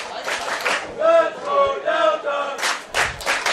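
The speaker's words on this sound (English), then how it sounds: "if you can hear the crowd over the mics, the fans in the stands" Fans in full stands at a high school ultimate frisbee championship game shout and cheer in bursts, with voices rising and falling, and a few scattered claps, heard from a distance across the field.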